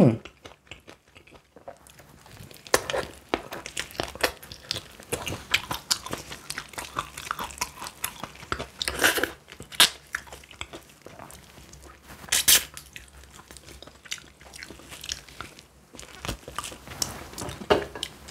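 Spicy fried chicken from Toreore being bitten and chewed up close, with repeated crisp crunches and wet chewing in irregular bursts, fairly loud against a quiet room, broken by brief spoken moments.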